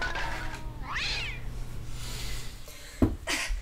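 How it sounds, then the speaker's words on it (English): Stray cat meowing outdoors: two or three drawn-out, rising-and-falling meows of moderate loudness over a low background hum, with a soft thud near the end. "We turn stray cats into jump scares."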